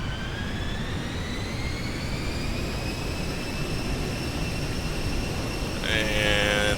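A steady jet engine roar from an Aerobask Viperjet on its takeoff roll in X-Plane 10, with a continuous turbine whine rising slowly in pitch and a brief extra tonal whistle near the end, loud and unbroken.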